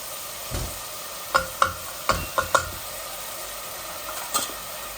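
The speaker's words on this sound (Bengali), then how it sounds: "এখন আমি সব মরিচ মশলা একসাথে দিলাইমু" Chili powder and dry spices frying in oil for a potato chicken curry, a soft steady sizzle punctuated by a handful of crisp spoon-on-pan scrapes and taps, close and fairly quiet.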